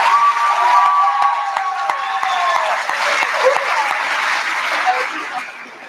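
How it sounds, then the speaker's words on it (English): A crowd at a senior honors night applauds the senior class board with loud, sustained clapping, a few voices and brief whistles rising over it before the applause slowly tapers. "could you please give me a round of applause for our senior class"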